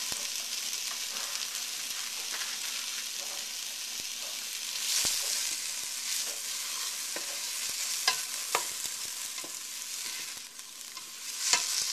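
Meat searing in a pan with mushrooms and fresh chopped basil, a steady close sizzle with intermittent sharper crackles and utensil scrapes, no voices.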